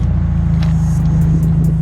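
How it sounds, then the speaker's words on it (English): Subaru WRX idling with a FactionFab axle-back muffler delete and quad tips, giving a deep, steady exhaust rumble with a loud, continuous low throb that holds even throughout. "we installed a FactionFab axle back onto this car, pretty much like a muffler delete"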